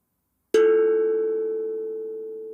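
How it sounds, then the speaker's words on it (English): A single tongue drum note rings out clearly and on its own, struck once and left to sustain with a slow, steady decay. "This is a tongue drum."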